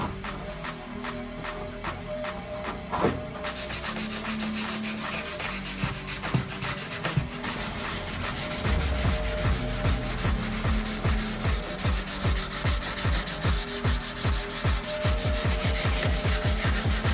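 A 2006-10 Dodge Charger grille being hand-sanded with 320 grit sandpaper, a continuous close rasping rub whose strokes turn into a fast, regular back-and-forth rhythm toward the end, with no speech.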